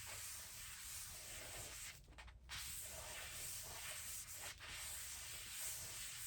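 Bowling ball being sanded with a fresh 500-grit pad, a very faint continuous rubbing hiss that drops out briefly twice and then resumes at a steady level.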